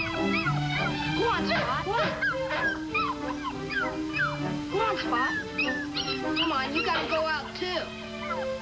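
A dog barks and whimpers in a 1955 television episode while boys and someone talk and shout loudly over it.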